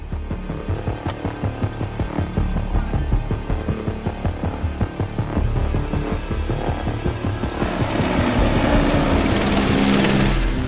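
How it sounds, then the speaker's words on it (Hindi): Ukrainian military helicopters fly over the outskirts of Kyiv in wartime, rotors thumping in a fast, steady pulse, with a low engine roar that swells and grows harsher toward the end. "ये हेलीकॉप्टर यूक्रेन के हैं जो कीव के बाहरी इलाके में उड़ रहे हैं"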